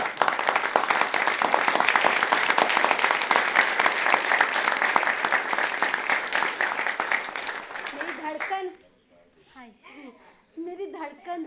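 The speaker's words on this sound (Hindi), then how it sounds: "तालियों के साथ।" An audience applauds after a stage play, a dense, steady burst of many hands clapping that runs for about eight seconds and stops abruptly. Voices follow once the clapping has stopped.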